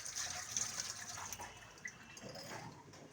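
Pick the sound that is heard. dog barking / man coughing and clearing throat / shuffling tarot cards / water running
water running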